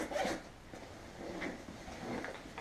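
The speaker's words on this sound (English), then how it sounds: "I keep all the zippers kind of off to this side" Zipper pulled open on the main compartment of a Hazard 4 Holmes sling bag, a few short, faint rasping strokes close by with no talking.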